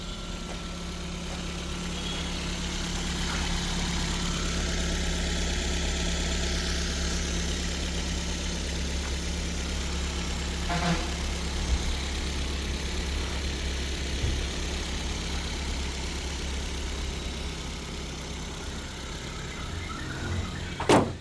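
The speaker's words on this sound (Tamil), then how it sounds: "வண்டியோட இன்ஜின் நாய்ஸ்லாம் கேட்டிருப்பீங்க" A 2010 Ford Figo ZXI petrol car with 79,000 km idles with a smooth, steady low hum that holds for the whole stretch, broken only by a faint clunk near the end.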